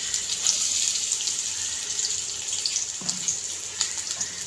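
Two large onions dropped into hot oil, giving a bright steady hiss of sizzling throughout with a few soft pops and clatters from the pan near the end.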